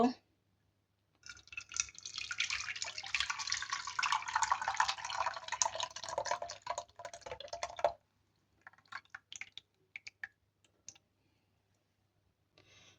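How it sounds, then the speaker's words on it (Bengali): Warm milk mixture for a sago dessert pours steadily into a serving dish for several seconds, then gives way to scattered drips and small clinks. "এখন একটা সার্ভিং ডিশে তরল দুধের মিশ্রণটা নিয়ে নিব"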